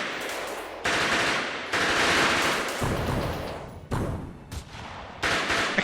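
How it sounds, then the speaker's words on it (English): Rapid bursts of automatic gunfire and volleys play on a Mount & Blade II loading screen in a modern warfare mod, loud and dense, broken by short gaps between firing sequences. "I kind of wonder why they do the gunfire on the loading screen."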